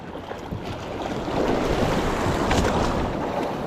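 Sea waves slap and wash against a small boat in steady, rolling surges, with wind buffeting the microphone and the water growing louder midway.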